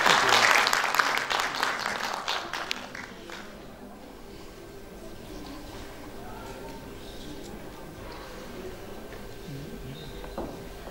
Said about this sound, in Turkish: bu gençlerimize bir büyük alkış alabilir miyiz acaba?